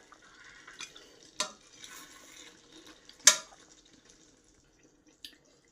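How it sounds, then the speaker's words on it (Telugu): Fish pieces, including a fish head, are mixed with masala for a fish curry, giving soft wet squelching and scraping with a few sharp clinks of utensil against the pot, quiet and close, with no talking. "ఇవన్నీ ఒకసారి బాగా కలుపుదాం."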